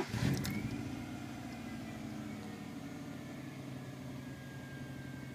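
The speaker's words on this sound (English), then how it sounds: "So I'll start the car." A Subaru Liberty engine cranks briefly from cold then settles into a steady, fairly loud, high idle hum that continues throughout.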